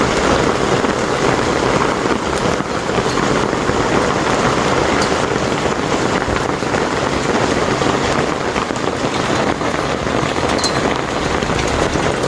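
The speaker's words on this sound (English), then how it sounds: "some of it sounded like hail hitting. It was coming down so hard." Heavy rain mixed with hail pounds hard and steadily on surfaces nearby, a dense continuous roar with scattered sharper impacts throughout, no voices.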